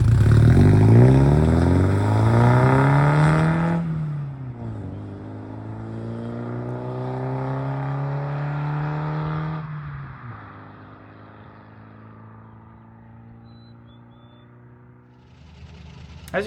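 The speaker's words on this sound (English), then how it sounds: "I do have some footage of me doing a pull away, kind of an acceleration test" A truck in BeamNG.drive, modelled on a real pickup, pulls away in an acceleration test, its engine climbing loudly through several rising gear sweeps before easing off and fading.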